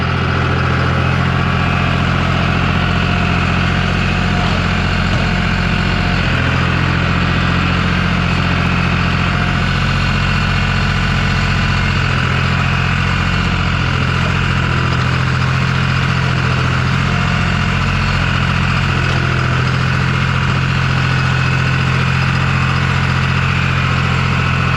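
A tractor engine idling steadily and loudly up close, a constant low rumble with no change in pitch throughout.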